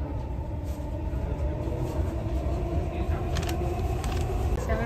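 A Dubai Metro train runs with a steady, loud rumble and rail hum throughout, with a high whine above and faint clatter, no pauses.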